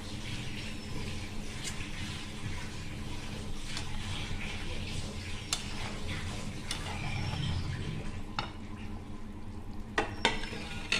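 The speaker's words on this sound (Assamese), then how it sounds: "এইখিনি তৰকাৰীখিনি উতলিছে, কচু পুলিখিনি।" Assamese fish curry with borali fish and taro stems bubbling and simmering in a pan, a steady low burble with occasional utensil clicks and sharp taps near the end.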